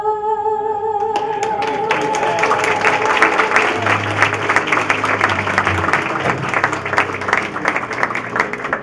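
An audience at an installation ceremony breaks into sustained applause, dense clapping that swells and carries on for several seconds after music fades, with faint crowd voices beneath.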